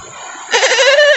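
A human voice imitates a horse's whinny while a toy horse is shown, a brief, close, high wavering call lasting under a second after a faint quiet lead-in.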